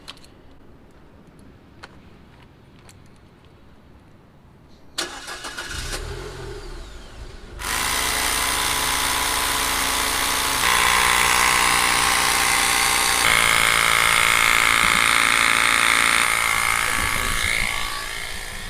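After quiet handling sounds, a small motorized air compressor inflating a Honda ADV 150 tire kicks on with a loud, steady buzzing whine and droning hum that runs continuously to the end.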